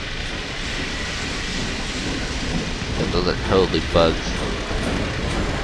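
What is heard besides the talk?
train passing in Half-Life 2 video game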